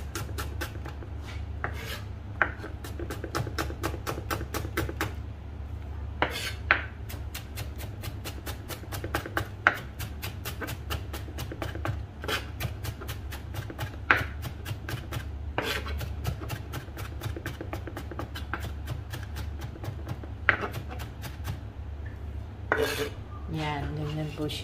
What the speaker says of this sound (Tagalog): I-mince din po natin itong onion ngayon.